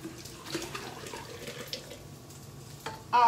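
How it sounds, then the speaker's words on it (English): Hot water is poured over a kitchen sink into a pitcher holding lemons, a soft continuous splashing and trickle nearby, ending in a brief louder gush. "Hot. I'm pouring it over the sink"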